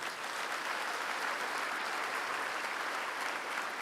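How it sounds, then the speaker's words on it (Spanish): A church congregation applauds during Mass with steady, dense clapping that fills the space evenly for a few seconds. No voices are heard over it. "Un fuerte aplauso para Él."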